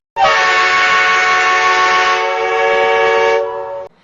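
A loud, sustained train horn blast rings out on its own for nearly four seconds, a steady harmonic chord that cuts off sharply at the end.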